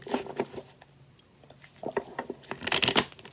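Tarot cards being shuffled by hand, a run of soft papery riffles and flicks in uneven bursts, close and fairly quiet, growing busier toward the end.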